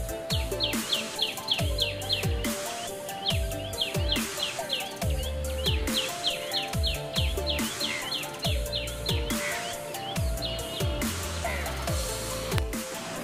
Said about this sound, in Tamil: பறவைகள் சவுண்ட்லாம் கேட்க ரொம்பவே சூப்பரா இருந்ததுல